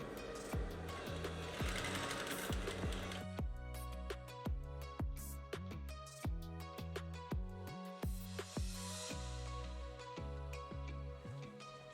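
Sewing machine stitching a curved seam for corset bust caging, running in short bursts of rapid rhythmic needle clatter with brief pauses between, close and clear, no voices.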